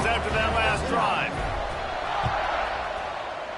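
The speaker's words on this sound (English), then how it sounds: "this crowd is feeling themselves after that last drive" A football stadium crowd roars steadily through a rivalry game as the kickoff unit takes the field, a broad continuous wall of cheering under an announcer's commentary.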